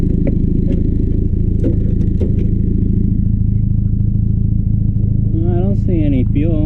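A Spitfire engine, fed from a rusty gas tank, runs with a steady low drone while driving, occasional clatters over it and a voice talking near the end.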